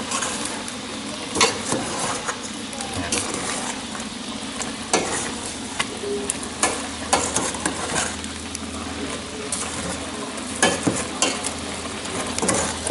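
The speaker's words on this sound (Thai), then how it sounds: "แล้วก็คนให้ข้าวคั่วมันละลาย" Toasted rice powder stirred into a pot of catfish curry with winter melon, a spoon scraping and clinking against the pot in irregular strokes over a steady background sizzle, close and fairly loud, with no talk.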